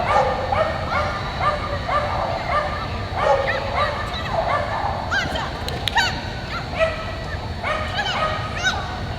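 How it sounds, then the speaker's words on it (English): A border collie at a UKI agility competition barks and yips excitedly in a rapid, repeated series, close and prominent, with an announcer talking over the noise of the event ring. "we see Nadine Schramm and her border collie Monza."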